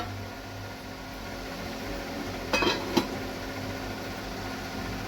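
A metal lid is set on a cooking pot of chicken kadai, giving a short cluster of clinks and a single sharp clank against a low steady background hum.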